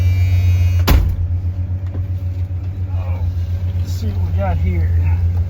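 A 1973 Ford Maverick engine holds a fast idle as a steady, loud, low drone, with a sharp knock near the start and someone talking briefly over it.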